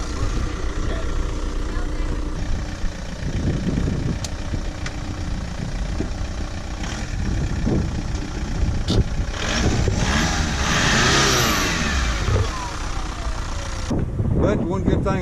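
A cheap Volkswagen Jetta TDI diesel with a manual gearbox runs nearby, its low engine rumble idling and rising with revs, while people talk over it throughout.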